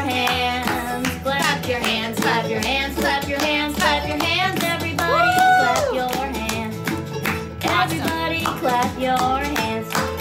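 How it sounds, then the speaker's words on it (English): Hands clapping along to a children's song, a steady train of sharp, evenly spaced claps mixed with the bright, bouncy music and a singing voice. "Everybody clap your hands."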